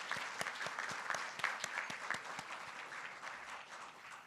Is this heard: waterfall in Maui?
no